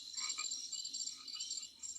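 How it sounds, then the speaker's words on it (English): Frogs croaking in a nature soundscape played from the Relax Melodies sleep app, a soft, continuous chorus of rapid high-pitched chirps and trills with a few lower croaks mixed in, faint and steady with no voices. "sleep out under the stars and listen to the frogs"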